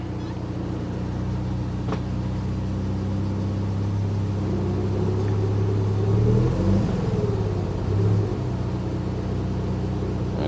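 Mazda RX7 FC sitting in first gear at low revs, a steady low rumbling engine drone with a slight swell in the middle, close and continuous with no talking.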